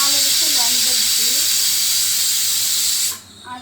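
A pressure cooker cooking dal vents steam through its whistle in a loud, continuous shrill hiss that cuts off abruptly near the end, with faint voices underneath.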